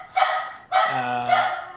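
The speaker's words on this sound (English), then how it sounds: "those are my dogs" Several dogs bark in two loud, close bursts, the second longer and overlapping, with sharp yips over a faint low hum and no talk.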